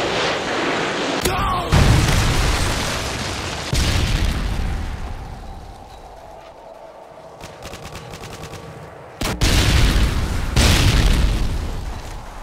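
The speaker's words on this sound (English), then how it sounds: "Friendly Predator missile inbound." Predator missile strikes in a Modern Warfare 2 team deathmatch on the Derail map, with several loud, deep booming blasts and rumbling, crackling gunfire between them, heavy and close throughout.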